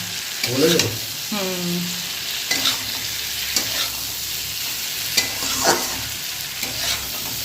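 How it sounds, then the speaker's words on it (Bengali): Steady crackling sizzle of small fish frying in hot oil, with occasional scrapes and clinks of a spatula stirring the pan. "চলো মাছ ভাজাটা দিয়ে দিই।"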